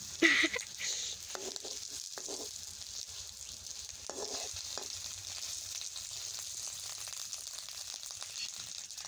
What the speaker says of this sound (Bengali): তোমার ডিমটা ভাজা ভালোই হলো সুখী।